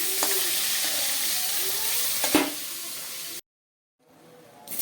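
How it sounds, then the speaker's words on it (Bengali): Fish sizzles steadily in hot oil in a pan, a close, bright frying hiss with a couple of sharp pops, then a sudden cut to silence before the sizzle faintly returns. "মাছটা আগে ভাজা করব লাল লাল করে"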